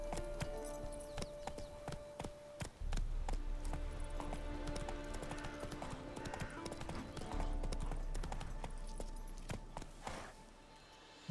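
Hooves of a horse galloping in The Witcher 3: Blood and Wine, a quick, steady clip-clop rhythm over game music and ambience that fades out near the end.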